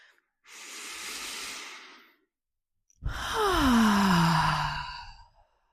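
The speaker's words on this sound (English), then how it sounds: "Let's do one more breath." Two deep breaths are taken during a guided breathing exercise: a long airy inhale, a pause of silence, then a louder, breathy exhale close to the microphone.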